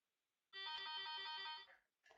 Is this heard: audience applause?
no